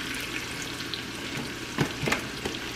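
Diced peach cooks with a tablespoon of sugar in a pan until it caramelizes. A soft, steady sizzle runs throughout, broken by a few brief scrapes of stirring.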